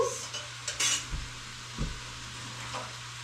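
Canned tomatoes from six cans tipped into a cooking pot for homemade spaghetti sauce, giving a few soft wet plops and metal clinks between quiet pauses, close by.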